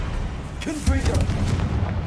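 A Confringo blasting spell cast in the Hogwarts Legacy video game lands as a sudden low booming burst about a second in, followed by a rumbling tail, while a voice talks over it.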